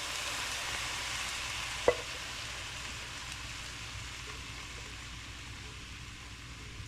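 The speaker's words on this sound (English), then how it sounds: "we're gonna add the sauce, or the diced tomatoes" Diced tomatoes go into a hot pan with one sharp clack near the start, followed by a faint, steady sizzle and hiss that runs on quietly and evenly.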